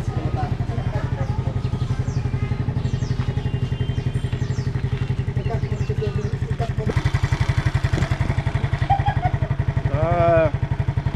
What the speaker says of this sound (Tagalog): Tahimik yung makina mga kalabarkada.